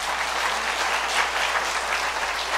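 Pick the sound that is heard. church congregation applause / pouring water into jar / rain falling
church congregation applause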